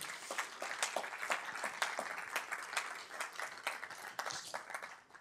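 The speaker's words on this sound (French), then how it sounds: "On peut les applaudir." An audience at a scientific conference claps steadily for several seconds, a dense patter of many hands at moderate volume, fairly distant and without cheering.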